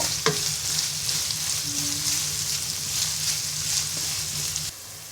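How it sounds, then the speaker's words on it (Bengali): Chopped onions fry in hot soybean oil, a steady close sizzle with the odd stir of a utensil, running unbroken with no voices before it drops away near the end. "পেঁয়াজটাকে ব্রাউন কালার করে ভেজে নিব"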